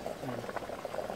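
Water at a rolling boil in a cooking pot, bubbling and popping at low volume in a short burst.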